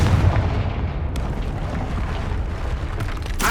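A Confringo blasting spell in Hogwarts Legacy goes off as a deep, booming explosion that rumbles at the start and then fades into a lingering low roar, ending with a sharper burst near the close.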